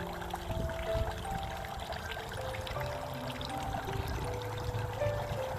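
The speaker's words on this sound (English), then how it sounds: "The sound of the pond is so relaxing." Pond water trickles and splashes continuously at an even level outdoors on a farm, with occasional faint tonal chirps over the flow.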